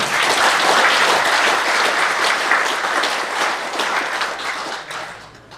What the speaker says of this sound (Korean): 동의하시면 박수로 환영해 주십